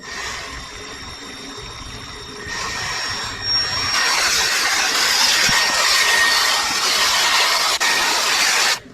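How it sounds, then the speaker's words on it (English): A Milwaukee variable-speed polisher buffs an aluminum fork tube, giving a steady, close motor whine and hiss that starts low and grows louder and brighter partway through, then cuts off at the end. "the nice thing about this Milwaukee polisher is that it's variable speed and can go quite slow to get started"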